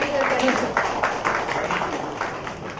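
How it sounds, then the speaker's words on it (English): At a government fisheries workshop, an audience applauds an honored official, a dense rolling patter of many hands clapping that gradually tapers off, with some voices mixed in. "Please give a big round of applause, ladies and gentlemen"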